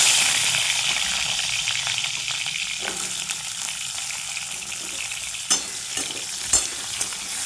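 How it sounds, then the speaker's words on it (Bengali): Pointed gourd (potol) frying in a pan in oil, a steady sizzle with occasional stirring clicks and knocks, close and continuous. "পটলটাও ভেজে নেব"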